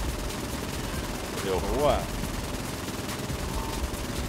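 Video game gunfire in Saints Row IV: a burst of rapid shots that jumps in level partway through, heard beneath two people talking.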